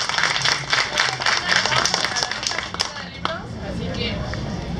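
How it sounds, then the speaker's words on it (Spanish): Clapping from a mixed group of children and adults at the close of a shared reading session, a brief burst of applause with voices mixed in that fades after a few seconds. "Démonos un fuerte aplauso porque de verdad sí leemos."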